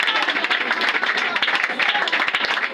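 A church congregation applauding during a prayer and deliverance service, with dense, steady clapping throughout and voices mixed into the crowd noise.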